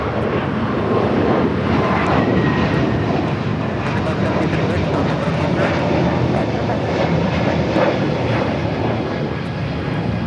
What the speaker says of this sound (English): 1756 taking off to Houston Intercontinental on the A321neo